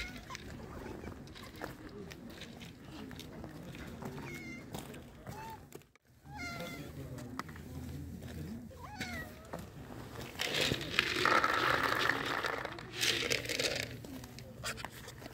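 A homeless black or dilute calico cat meows several times at moderate volume among rustling and background noise while eating dry cat food, with some faint voices nearby.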